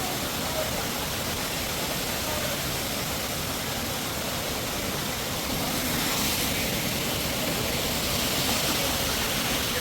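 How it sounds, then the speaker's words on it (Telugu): A small waterfall near Araku rushes in a dense, continuous roar of falling water, loud and steady throughout with no break. "ఇక్కడ ఒక చిన్న వాటర్ ఫాల్ అన్నాం కదా అరకు దగ్గర."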